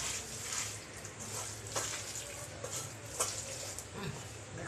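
Fish being mixed by hand with mustard oil in a home kitchen, a soft wet squelching and stirring with scattered clicks, moderately faint and steady throughout.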